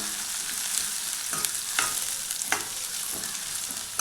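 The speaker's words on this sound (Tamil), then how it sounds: "அதையும் சேர்த்துட்டு நல்லா வதக்கி விடுங்க." Steady sizzle of onions and green chilies frying in a pan, with occasional scrapes and stirs of a spoon, close and continuous.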